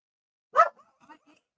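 Frito, a pet dog indoors, gives one loud close bark followed by a few fainter short yips and grumbles in an otherwise quiet room.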